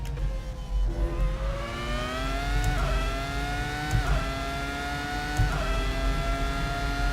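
Ferrari F2002 Formula One engine driven in Assetto Corsa, a loud high-pitched screaming whine rising steadily through the revs with brief dips at each gear change, continuous and up close.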